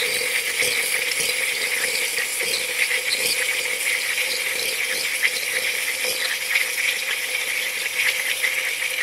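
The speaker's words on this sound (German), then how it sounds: "Es kommt als erstes wirklich ganz, ganz viel Wasser und dann kommt so ein Gemisch aus Wasser und Dampf." Steam wand of a Rancilio Silvia espresso machine purging, hissing steadily as water spits out with crackling, sputtering bursts mixed into the steam, close and continuous without talk.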